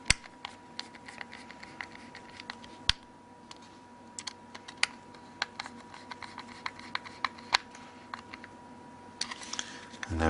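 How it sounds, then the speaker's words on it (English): Small self-tapping screws being driven with a T6 screwdriver into a Nokia N8 phone during reassembly, giving sparse, faint clicks and ticks at irregular intervals against a quiet background. "the self-tapping screws, back into the centre holes. Using the larger T6 screwdriver."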